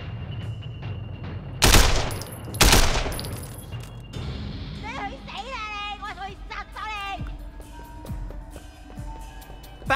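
Bursts of rapid gunfire crackle amid sound effects in the video game Sleeping Dogs, with two loud blasts early on, while voices talk over the action.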